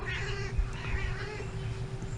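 A male cat gives a long, wavering whining meow over steady room noise, a continuous plaintive cry lasting a couple of seconds.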